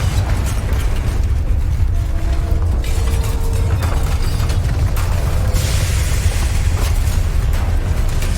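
A Confringo fire spell explodes in Hogwarts Legacy during a battle, producing a sustained, loud rumbling blast with crackling debris and bursts layered over a heavy low boom that fills the whole stretch.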